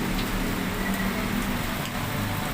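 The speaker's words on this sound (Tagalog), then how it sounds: "tuloy-tuloy ngayon ng ulan hanggang ngayon" Heavy rain pours steadily during a storm, a dense even hiss with scattered drops spattering on nearby surfaces, continuous and fairly loud with no voices.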